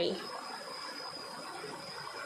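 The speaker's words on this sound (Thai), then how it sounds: "น้ำไหล" A forest stream flows with a steady, soft rushing wash that carries on unbroken throughout.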